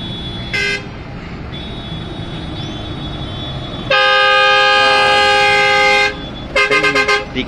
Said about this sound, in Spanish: la bocina